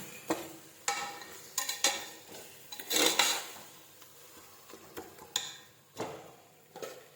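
Onion, tomato and ginger-garlic paste being stirred in a pot for Chettinad chicken biryani, with scattered soft scraping and ticking strokes of a spoon against the metal, irregular and fairly quiet.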